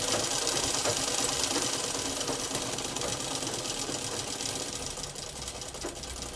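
A sewing machine runs steadily throughout, stitching the lining of a crop top to join it, a continuous close mechanical whir with a fine rapid rhythm and no talk.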